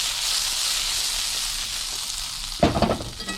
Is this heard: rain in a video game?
no